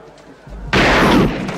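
A single loud gunshot rings out in a fan-made King Kong film, a sharp broadband blast that hangs on and slowly tails off, preceded by quiet room tone.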